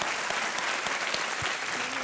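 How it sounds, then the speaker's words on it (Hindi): Studio audience clapping on a television quiz game show, a short dense burst of steady applause filling the room. "बहुत बहुत तालियां"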